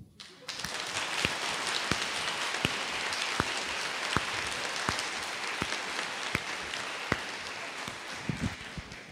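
Steady crowd clapping filling the room at a church sermon, dense and continuous with sharper individual claps standing out at regular intervals, no talking over it.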